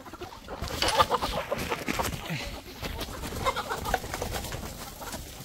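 Chickens cluck softly and continuously at close range, several birds chattering together with scratchy rustling underneath.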